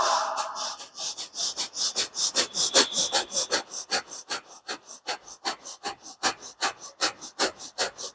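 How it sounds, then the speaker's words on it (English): Rapid, rhythmic breath of fire yoga breathing, about three forceful nasal exhales per second, loud and close and keeping an even pace throughout, with no talk. "you will now breathe in and out using breath of fire and chant the mantra Sat Nam"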